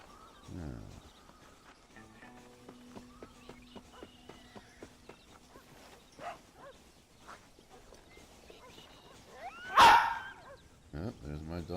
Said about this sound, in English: Yep, there's my dog barking with the coyotes.